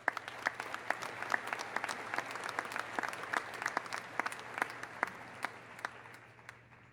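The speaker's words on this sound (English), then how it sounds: "Let's give a round of applause for our incredible advisors." Audience applause at a spring university commencement ceremony, a steady wash of many hands clapping with sharp individual claps popping out, sustained for the whole stretch and tapering slightly at the end.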